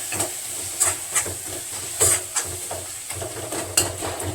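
Onion-tomato masala sautéing in a pan with a steady sizzle and hiss, broken by a few sharp scraping stirs of a spoon against the metal. The stirs are close and moderately loud, and no one speaks.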